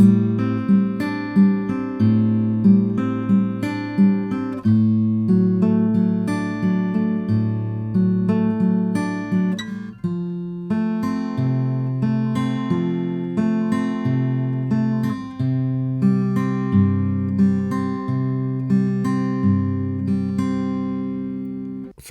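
Fingerpicked acoustic guitar plays the opening line of a song from Frozen 2, with clear plucked notes ringing over a steady rhythm, close and solo with no voice.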